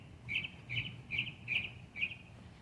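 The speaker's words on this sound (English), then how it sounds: "I hear the birdies." Small birds chirp from the trees of a quiet residential neighborhood, five short bright calls in an even rhythm, faint and somewhat distant over a low background murmur.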